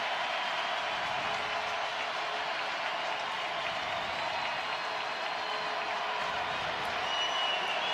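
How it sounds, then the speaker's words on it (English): Stadium crowd at the Alerus Center during a North Dakota State vs North Dakota college football game, a steady, broad roar of cheering and noise that holds at a constant level throughout with no clear voices standing out. "Cole Payton, as this Alerus Center crowd makes some noise"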